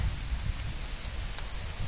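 Steady rain falls in a Carpathian forest during a mushroom hunt, a soft continuous hiss with low pattering close by and no voices.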